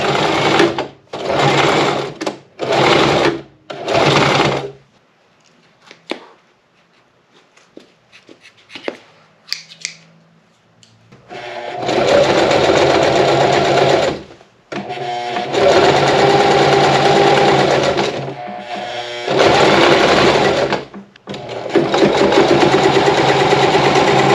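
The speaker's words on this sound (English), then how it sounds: "Once I get to the edge here, we'll give it a back stitch." Sewing machine stitching car upholstery for a vintage Porsche 911 Targa rebuild, with several short bursts of stitching, a quiet gap, then longer sustained runs of loud, close mechanical whirring.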